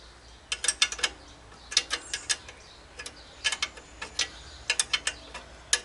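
Parts being worked loose while removing an assembly from a Roper Giant walk-behind tiller: bursts of close metallic clicks and rattles come in clusters of several quick ticks, separated by short pauses.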